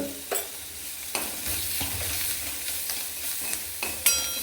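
Ingredients sizzle and fry in a pan while being stirred for a tomato and green chilli chutney, with a steady hiss broken by a few sharp scraping taps of the spoon against the pan, close and alone.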